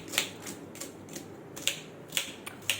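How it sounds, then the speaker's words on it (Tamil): A knife chops a second onion on a board in a home kitchen, giving sharp, quiet, irregular taps with several distinct strikes spread across a few seconds and no voices. "2வது வெங்காயம் வெட்டிகிட்டு இருக்காங்க."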